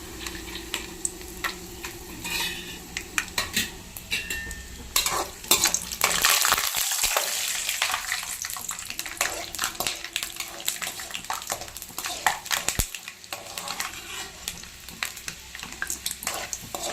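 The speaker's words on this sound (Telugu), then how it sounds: "ఫస్ట్ ఫ్రై చేసుకుందాము." Chana dal frying in a pan with stirring, a steady close sizzle punctuated by repeated scraping and clinking of a spoon against the pan throughout, no talk.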